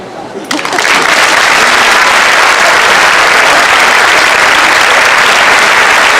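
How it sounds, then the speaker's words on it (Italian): Dense, loud applause from a crowd at the Festa del Redentore in Nuoro greets the Ortobene choir of Nuoro, swelling in after a brief quiet start into a steady, sustained roar of clapping. "Un applauso che avvolge il canto del coro Ortobene di Nuoro"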